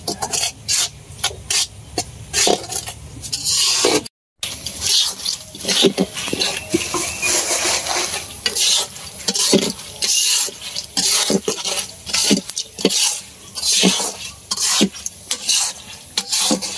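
Peanuts roasting in hot sand are stirred by hand in a steady rhythm of gritty scraping and rasping strokes, loud and close, with one brief pause early and faint speech now and then.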